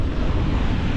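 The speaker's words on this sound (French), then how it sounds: "il y a un peu de vent" Wind at a seaside free campsite in New Zealand's North Island buffets steadily with a loud, close rush over the microphone, mixed with a low roar of the sea, for a brief moment.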